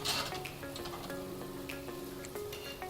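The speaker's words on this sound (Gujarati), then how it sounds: "અને આપણે એને ધીમા તાપે તળવાના છે." Malpua batter fries in a shallow pan over a low flame, giving a soft, continuous sizzle with a few light utensil clicks, heard alone with no talking.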